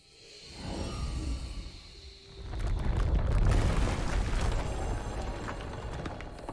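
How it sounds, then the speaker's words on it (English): Rock wall crumbling apart in Marvel's Midnight Suns during the Trial of the Elder God Oshtur, a soft rumble swelling into a loud, sustained crashing roar that gradually tapers off with no talk over it. "we destroyed a rock wall"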